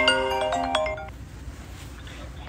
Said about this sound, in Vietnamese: Đây là điện thoại, các bạn đừng gọi.